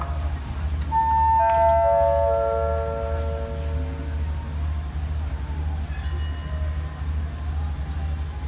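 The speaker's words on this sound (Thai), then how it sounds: "สำหรับขบวนรถเร็วที่172นะครับต้นทางสุไหงโกลกไปทางกรุงเทพนะครับ" Rapid train 172 from Sungai Kolok to Bangkok pulls into Ban Pong railway station in Thailand, sounding a loud, sustained multi-tone horn that fades into a steady low rumble, with a brief fainter tone later on.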